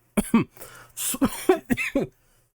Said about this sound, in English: Sorry, I had a cough there.